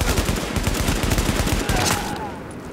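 Gunfire aimed at supplies in Tom Clancy's The Division, a dense, continuous clatter of rapid shots that stays loud throughout and eases off slightly near the end.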